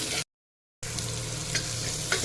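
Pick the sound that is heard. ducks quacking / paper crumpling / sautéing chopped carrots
sautéing chopped carrots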